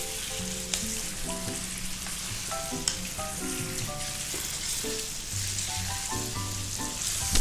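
Lamb browns in a pan for Rogan Josh curry, a continuous bright sizzle with steady frying hiss while being stirred, and faint musical tones underneath.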